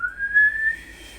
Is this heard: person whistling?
yes